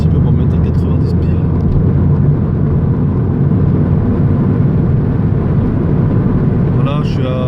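A Peugeot 207 RC engine accelerating gently at around 90 km/h on a flat road, heard as a steady, loud in-cabin drone with road and wind noise throughout.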